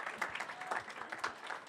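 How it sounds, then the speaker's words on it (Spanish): Audience at a church testimony gathering applauds in a brief, steady patter of clapping, moderately close and continuous throughout. "Parece que estamos con los aplausos"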